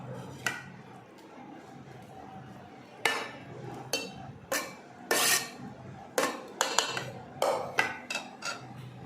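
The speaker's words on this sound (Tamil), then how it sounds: "இப்போ மறுபடியும் ரைஸ் சேர்த்துக்கோங்க" Rice being spooned into a pot of Hyderabad chicken dum biryani, layered over gravy, with repeated sharp clinks and scrapes of a metal spoon against the pot at irregular intervals, close and fairly clear.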